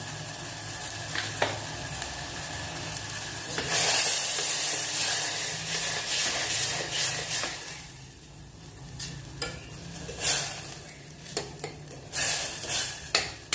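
Stuffed brinjal sautéing in oil over medium-high heat, a steady close sizzle and hiss broken by repeated scraping stirs of a spatula against the pan, with no talk.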